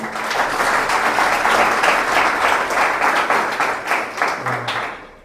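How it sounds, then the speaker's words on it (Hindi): A church congregation at a Resurrection Day prayer service applauds a newly married couple, dense and loud clapping from many hands that swells and then tapers off near the end. "क्यों ना हम लोग इन दोनों जन के लिए जोरदार ताली दें"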